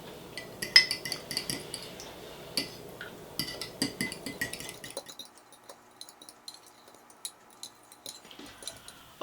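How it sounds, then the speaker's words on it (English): A utensil clinks and taps against a bowl while wet ingredients with vanilla extract are combined for a keto cake batter. The rapid, uneven metallic clicks are busy at first, then thin out to lighter scattered taps. "I'm just going to go ahead and start combining this so that our wet ingredients are a little bit combined before we add them into our dry ingredients"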